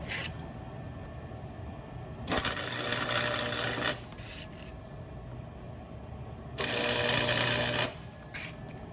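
Two tack welds on a broken shock mount of a Suzuki Samurai: each is a harsh, crackling arc buzz lasting over a second, with a quiet pause between the bursts.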